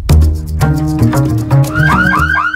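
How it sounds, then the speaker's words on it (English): A loud car alarm blares up close, cycling through rapid shifting tones and rising whoops, with no voices. "Alarms."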